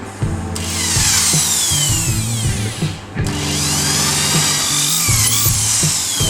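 A power drill bores a pilot hole in beech wood for a birdhouse. The motor whines steadily and loudly in two long bursts with a brief pause between them, and the bit grinds through the wood.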